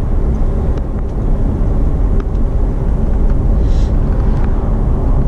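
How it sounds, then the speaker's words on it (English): A Chevrolet Corvette Grand Sport exhaust accelerating from about 36 mph, heard as a loud, steady low rumble from inside the car. "give it some gas so we can hear that awesome exhaust"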